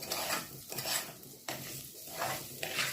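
Rice stirred in a pot while it toasts golden, with a continuous dry scraping and hissing that swells and fades in broad waves, close but quiet, no speech.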